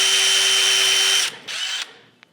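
A DeWalt power drill bores through metal, a steady loud whine that stops, restarts for a short burst, then cuts out, ending with a faint click.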